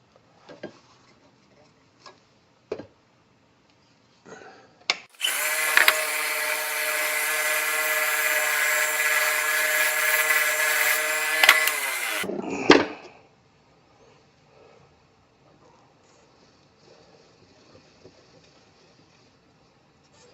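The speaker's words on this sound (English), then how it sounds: "I just need to get my parting tool on that and just trim that up just a bit" A lathe turns a fountain pen blank while a parting tool trims its threads. A steady, buzzing, tonal whine lasts about seven seconds, with faint ticks and knocks before and after, and no one speaks.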